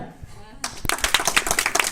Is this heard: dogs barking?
no